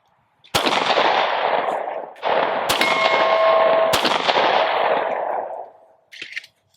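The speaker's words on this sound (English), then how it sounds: "So here we have the last 20 rounds of S&B 115 grain." A Glock 43x pistol fires S&B 115 grain rounds outdoors, three loud sharp shots spaced about a second apart, each followed by a long booming echo that fades out.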